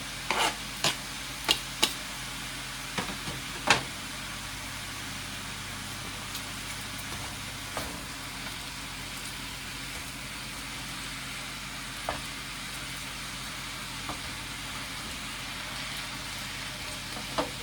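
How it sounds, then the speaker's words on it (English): An onion being fried in a pan for shepherd's pie sizzles in a steady low hiss, broken by sharp clicks and clatters of stirring, mostly in the first few seconds. "Throw my onion in now."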